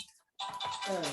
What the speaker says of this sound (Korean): 누가 전화 왔나요?